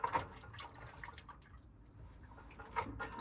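Water trickles and drips faintly and steadily from an opened relief valve on a home water heater as it drains.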